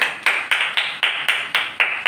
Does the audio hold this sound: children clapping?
yes